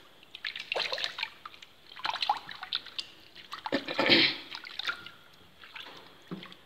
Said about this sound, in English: Just giving them a wash. Taking the last residue of the actual plant matter off.